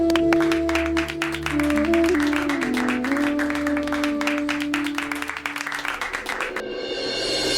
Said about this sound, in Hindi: मेरे प्यारों, बजाओ ताली